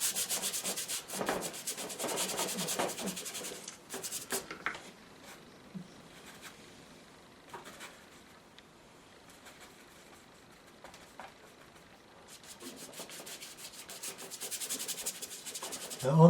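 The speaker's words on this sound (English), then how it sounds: "Scrubbing away." A brush scrubs acrylic paint onto canvas in a coastal landscape painting, a dry rasping rub close up, steady at first, fading to quieter strokes in the middle, then scrubbing hard again.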